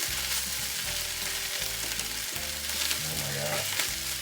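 A frittata of eggs browning in a hot pan, giving a steady, close sizzle with soft crackling throughout.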